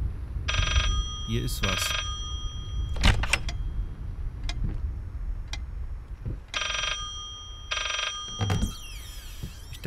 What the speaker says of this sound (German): Hier ist das Telefon versteckt.